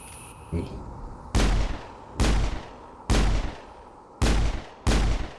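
Single loud gunshots from a game firearm ring out five times at roughly even intervals, each sharp crack trailing into a short echoing decay, near and prominent.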